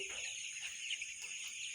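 Faint clucking of colour bird chickens in a poultry farm shed, over a steady high-pitched background hum, soft and somewhat distant, with no clear talking.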